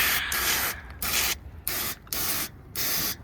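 Cleaner sprayed into an air conditioning unit to wash dirt and grime down its pathway, heard as five close, loud hissing bursts separated by short pauses.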